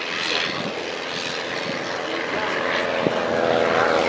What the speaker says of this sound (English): That's the sound of a modern engine going by.